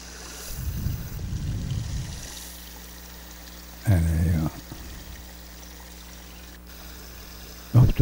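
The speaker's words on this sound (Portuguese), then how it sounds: "E aqui uma valeta que corre a água" Water running along a roadside ditch beside a country road, a soft continuous flow with brief louder splashy bursts and low rumbling handling noise near the start and middle.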